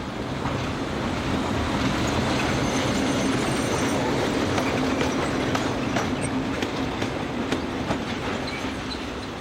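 Locomotive 1142587 rumbles at the west end of a station during a run-round manoeuvre, a steady close mechanical drone with faint wheel clicks throughout.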